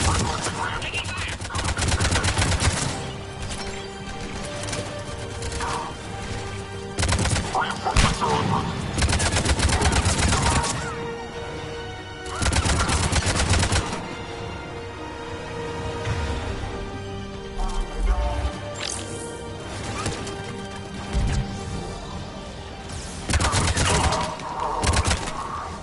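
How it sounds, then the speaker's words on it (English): Heavy gunfire during an attack in the game Mass Effect 3, with repeated loud bursts of automatic fire and clustered shots over a steady musical and ambient background. Voices come in now and then. "Shepard, they found us. Under heavy attack."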